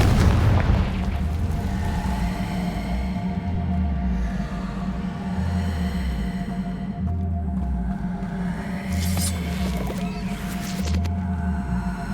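Confringo fire spell blasts in the Hogwarts Legacy video game, a series of deep booming explosions that rumble repeatedly through the clip, loud and close under a sustained game soundscape.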